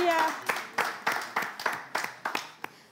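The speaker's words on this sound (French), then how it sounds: "Alors, on applaudit." A small audience claps in a steady, evenly spaced rhythm, about a dozen sharp claps in a row, with a voice briefly at the start.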